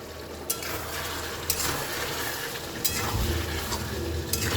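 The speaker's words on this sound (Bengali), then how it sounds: "আমি এবার দেখে নেবো নেড়ে" Yogurt-marinated chicken sizzles in a pan with a dense, steady hiss, close and moderately loud. A few sharp scrapes of a spoon or spatula break through at intervals while it is stirred, and there is no speech.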